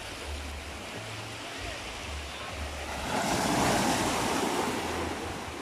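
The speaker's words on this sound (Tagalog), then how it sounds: "malalaki na yung alon dyan" Ocean surf rolls in with a steady wash of noise that swells louder midway as a bigger wave breaks, with wind blowing across the microphone.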